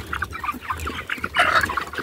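Young chickens raised outdoors cluck and peep in short, overlapping bursts close by, a busy flock chatter with a louder flurry partway through.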